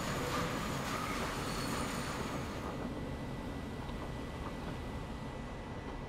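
Steam train wheels squealing through curves in Transport Fever 2, a steady loud rolling rail rumble with high squeal tones fading after the first few seconds.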